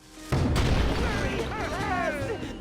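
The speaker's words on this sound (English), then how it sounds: "And we'll fire the cannon." A cannon fires in Skylanders Spyro's Adventure: one loud, sudden boom that rings out and fades slowly, with a voice speaking over the tail.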